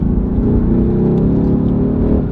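Deep, steady engine drone of a 2018 Mercedes-AMG GT R turbocharged V8 heard from inside the cabin while driving, a loud, continuous low rumble with no speech.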